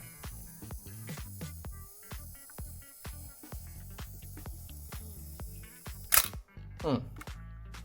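A Miranda film camera's shutter trips on its self-timer, giving a sharp mechanical snap followed by a second click, heard close up over faint background music, with someone talking before it.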